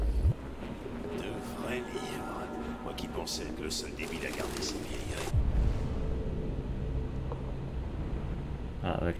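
Pigeons coo in a Detroit: Become Human game scene, soft repeated calls over a steady ambient bed, with a voice talking over parts of it.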